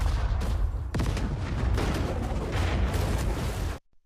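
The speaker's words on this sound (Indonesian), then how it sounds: "Dalam sekejap, ledakan dahsyat pun terjadi." A grenade goes off in an action film: a dense, loud barrage of blasts and rumbling booms that sustains, then cuts abruptly to silence.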